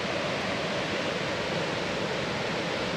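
Steady, loud rush of the Flint River pouring over the unique dam at Stepping Stone Falls, a dense continuous roar of falling water heard up close with no voices.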